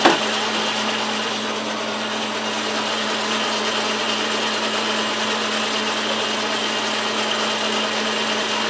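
A lathe hums steadily while a parting tool makes a light cut into spinning material, producing a constant whirring grind with a low motor drone.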